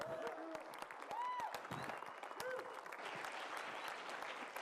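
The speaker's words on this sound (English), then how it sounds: "One more round of applause for Brooke and the team." An audience applauding at a talk, dense steady clapping with a few whoops and cheers rising over it.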